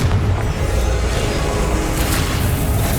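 A Confringo spell blast in Hogwarts Legacy sounds as a dense, sustained rumbling boom that stays loud and steady throughout, with no pause or quiet gap.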